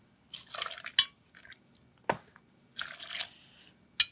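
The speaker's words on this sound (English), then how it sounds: "to the shaker, I'm going to add 4 ounces of tequila" Tequila poured into a cocktail shaker half full of ice, heard as a few short splashing, trickling bursts separated by sharp clinks, close and fairly quiet with no talking.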